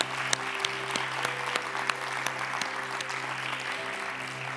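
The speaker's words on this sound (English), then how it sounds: "Let's give them all a round of applause one more time." Audience applause for a conservation panel at a summit on restoring nature, steady clapping from a seated crowd holding at an even level for several seconds, with a low steady hum beneath.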